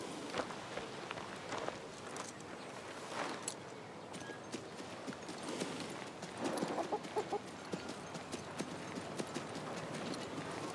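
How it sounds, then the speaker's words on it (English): Chicken clucking in the King's Bounty II video game, set among clip-clopping hooves and footsteps; short clucks come and go over a busy, moderately faint background. "Stupid chicken."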